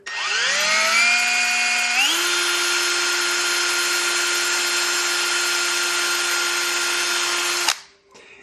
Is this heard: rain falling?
no